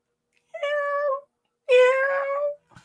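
A person mimics a prowling cat yowling outdoors, two drawn-out voiced meow-like wails close and clear, the second louder and longer, with a short breathy sound after.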